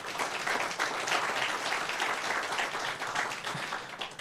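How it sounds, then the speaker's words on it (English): An audience claps in a round of applause at a New Jersey public announcement, a moderately faint, continuous patter of many hands lasting a few seconds. "So I want to give another round of applause both to Brian, all the board members of Bike and Walk"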